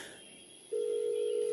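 An unanswered telephone call produces a steady, continuous electronic ring tone that starts partway through and holds evenly, moderately loud over a quiet hiss.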